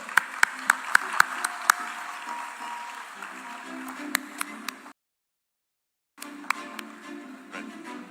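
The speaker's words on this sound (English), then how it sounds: "Round of applause." Audience applause at the opening ceremony of a film festival, a steady wash of clapping with a few sharp louder claps, broken by a sudden gap of silence before it resumes.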